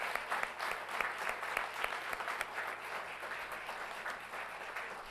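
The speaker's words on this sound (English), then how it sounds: "let's have a round of applause for Al and his team" Steady applause from the audience at a school governing board meeting, a dense, sustained clatter of many hands clapping for five seconds with no voices over it.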